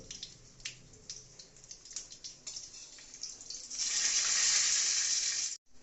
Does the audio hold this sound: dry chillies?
yes